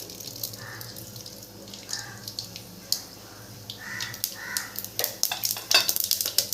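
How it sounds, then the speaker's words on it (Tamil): Mustard seeds go into hot groundnut oil, giving short bursts of crackling sizzle and spluttering pops that grow busier toward the end, close and moderately loud against a quiet kitchen background. "கொஞ்சமாக கடுகு போட்டுக்கலாம்."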